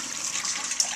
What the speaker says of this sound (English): So after they've soaked for your 7, 8, 9 hours, then you drain off all the water